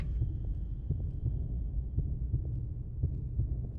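A steady, low heartbeat thumps at an even pace under a dark droning hum, heard while exploring a creepy Backrooms-style video game level.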